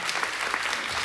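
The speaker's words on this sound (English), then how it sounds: "I'd like everybody to give Bill Frady a big round of applause." A short burst of audience applause at a Republican Party officer candidate forum, brisk crowd clapping with no voices on top.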